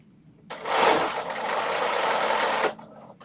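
A sewing machine stitches a pickleball dress top in one continuous buzzing run of about two seconds, close and loud, starting and stopping abruptly.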